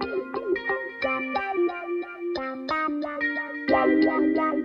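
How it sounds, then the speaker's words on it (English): Several layered guitar parts processed with the Waves CLA Guitars plugin play together in a boom bap beat, with effects-heavy, chorused and echoing tones and plucked melodic lines, loud and steady with no voice. "And the tool I'm using right now is the Waves CLA Guitars"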